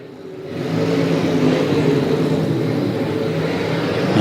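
Dirt late model race cars roar around a track in a steady, loud engine drone that rises quickly after a quiet start and then holds.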